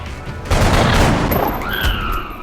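Gunfire erupts in XCOM Enemy Within, a loud burst of shots and rumble beginning about half a second in, followed by rising electronic game tones near the end.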